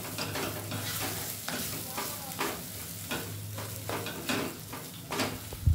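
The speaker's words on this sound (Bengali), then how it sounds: "দেখুন পেঁয়াজের সাথে ভালোভাবে মা আলুটা মেখে নিচ্ছে" Boiled potato mashed with onion for aloo chokha, soft squishy pressing and scraping in an uneven, repeated rhythm, close by with no talk.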